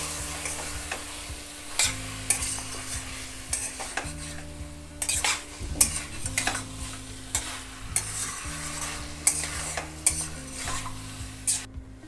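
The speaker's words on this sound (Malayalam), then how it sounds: "ഇനി നമുക്ക് ഇതിലേക്ക് ഒരു 1/4 കപ്പ് തൈര് ചേർത്ത് കൊടുക്കാം. ഇത് നല്ലതായിട്ട് ഇളക്കി യോജിപ്പിക്കുക." Yogurt being stirred into chicken korma in a pan, with repeated scraping and stirring strokes over a steady low simmer and occasional clinks of utensil against metal, close and fairly quiet, no voices.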